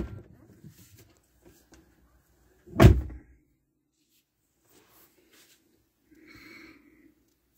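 A vehicle door opens with one solid thump partway through, preceded by faint rustling and followed by a quiet mechanical hum near the end.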